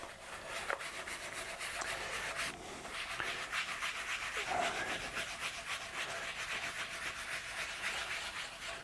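Paper towel rubbing grain filler into the wood of a guitar body, a steady, close, continuous scrubbing hiss with rhythmic strokes and no talking.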